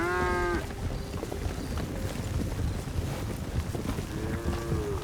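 Cattle being herded on a ranch in Red Dead Redemption 2 moo loudly, one long call at the start and another near the end, over constant wind noise and trampling hooves.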